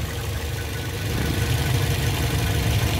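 Engine of a 2012 Toyota Vios Limo second-generation sedan running at idle, a steady close low hum and rumble that swells slightly partway through, with no talk.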